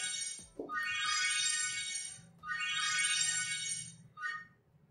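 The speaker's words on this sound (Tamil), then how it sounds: "ஸோ ஃபைண்ட் ஃபோன் நீங்கள் செலக்ட் பண்ணிட்டீங்க அப்படின்னா ஃபோன் வந்து இங்கே ரிங்காக ஸ்டார்ட் ஆகும்" A smartphone rings after a budget Maxima Max Pro X5 smartwatch triggers its find-phone feature. Two long bursts of a bright melodic ringtone play with a brief gap between them, followed by a short third burst, fairly close and clear.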